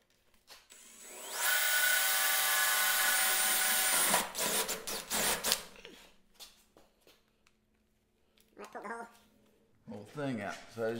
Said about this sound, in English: So you can drill all those out and pop it all off there.